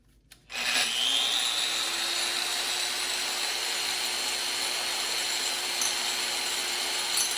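A power drill bores a hole through a ceramic sink. After a short quiet lead-in, it gives a loud, continuous grinding whine that holds steady throughout.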